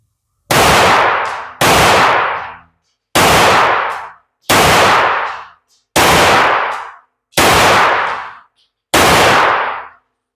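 Seven loud, sharp gunshots from rounds of CCI and Magtech ammunition ring out one at a time at roughly even intervals, each followed by a short decaying echo, close to the listener.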